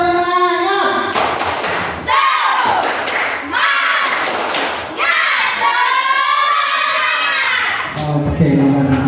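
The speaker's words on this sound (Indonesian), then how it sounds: "Bapak pengen kalian melakukan tepuk semangat." Junior high pupils at SMPN 1 Sungai Kakap perform the tepuk semangat spirit clap, loud group chanting and shouting punctuated by bursts of rhythmic clapping and thumps, close and energetic throughout.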